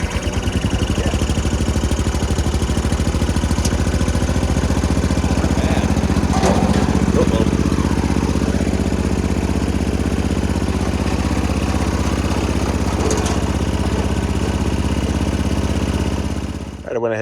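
A small off-road mini vehicle's engine fires and runs for the whole stretch, a loud, steady, rapid putter like a small single-cylinder motor close by, with speech over it now and then.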